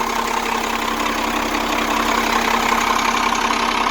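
A motorhome engine idles steadily with a constant, fairly loud rumbling drone and slight knock that never changes in pitch or level, with no other sounds.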